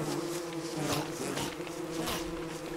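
Bees from the video game Don't Starve buzz steadily and loudly, a continuous droning swarm close by with pulsing swells throughout.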